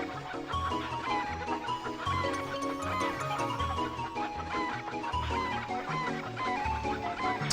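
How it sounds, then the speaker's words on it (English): Chickens cluck and squawk in the Breath of Fire IV video game, scattered calls repeating over steady, busy game music throughout. "God dang chickens."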